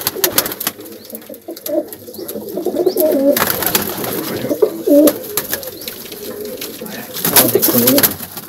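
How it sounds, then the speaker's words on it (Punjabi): Pigeons kept for competitive pigeon flying coo repeatedly and close by, with throaty, rolling calls rising and falling over a busy outdoor background. "ਦੇਖੋ ਜੀ ਥੋੜ੍ਹੀ ਜਿਹੀ ਹੋਰ ਤੁਹਾਨੂੰ ਝਲਕ ਵਿਖਾਉਂਦੇ ਹਾਂ ਕਬੂਤਰਾਂ ਦੀ ਨੇੜੇ ਕਰਕੇ"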